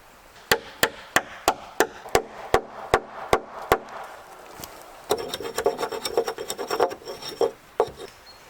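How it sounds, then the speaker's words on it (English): An axe strikes wooden spikes in the forest while trimming off excess, giving about a dozen sharp, evenly spaced chops, then a busier run of quicker, scraping cuts, close and clear with no talking. "With an axe, I clean off all the excess and continue to put it on top."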